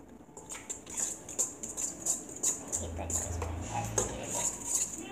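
Spatula scraping homemade brownie batter off the sides of a mixing bowl, a series of soft rhythmic scrapes and light clinks close by, with quiet chatter and a faint low hum beneath.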